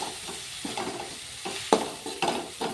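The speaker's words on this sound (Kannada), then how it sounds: "ಈಗ ಚೆಂದಾಗೆ ಫ್ರೈ ಮಾಡ್ಕೋಣ" Curry leaves and coriander fry in hot oil for tomato rice, a soft continuous sizzle broken by several sharp spatula scrapes and stirs against the pan, close and without talk.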